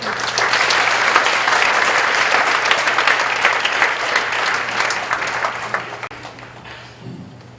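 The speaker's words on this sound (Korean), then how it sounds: "나오실 때 우리 큰 박수로 맞이하겠습니다." Loud, sustained applause from a large audience, dense clapping that stays strong for several seconds before gradually thinning toward the end.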